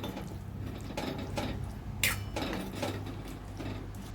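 Bombil fish and potato pieces being stirred into onion-coconut masala in a pan, with soft scraping and a few clinks of a spoon against metal at close range and no talking.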